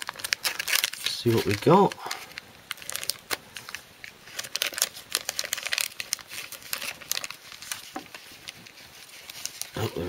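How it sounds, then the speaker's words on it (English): A plastic blind bag of Marvel Wikkeez figures crinkles and tears as it is ripped open by hand, close and busy, with a person speaking briefly over the rustling. "Feels that like there's actually two inside, so let's rip this open."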